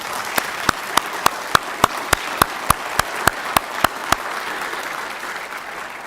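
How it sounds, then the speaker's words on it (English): Applause at a drug court commencement ceremony honoring a judge: one loud, close pair of hands claps in an even rhythm about a dozen times over a background of crowd clapping, then stops while the softer applause fades. "I think he deserves a huge round of applause."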